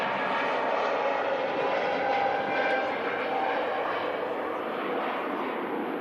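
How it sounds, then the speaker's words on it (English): A Lufthansa airliner rotating on takeoff at Manchester Airport roars as a steady, broad jet-engine rumble, continuous and fairly loud at a moderate distance throughout. "Lufthansa just rotating there nice and early"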